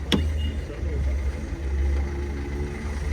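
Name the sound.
used car engine idling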